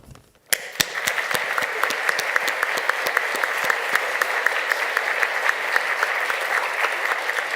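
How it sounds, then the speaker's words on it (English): An audience at a live online céilidh performance of solo singing, folklore and a céilidh band applauds the musicians: clapping bursts in after a short pause and carries on steadily and loudly. "So I'm going to lead the applause to you all."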